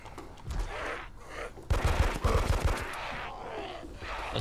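Gunfire in the Arma 2 DayZ video game: a burst of rapid, loud shots with sharp repeated cracks, followed by quieter game ambience.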